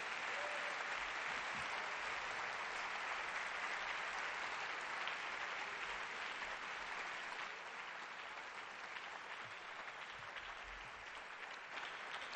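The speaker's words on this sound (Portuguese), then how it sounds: "a igreja vai aplaudir vocês nesse percurso" A church congregation claps steadily and densely through the whole stretch, a sustained wash of applause that eases slightly toward the end.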